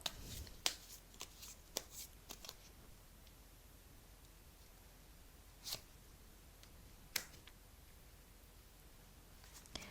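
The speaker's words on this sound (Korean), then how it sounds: "마지막으로 조언 카드 뽑아 볼게요." Tarot cards shuffled and drawn close up, soft riffles and sharp flicks and taps spaced irregularly over quiet room tone.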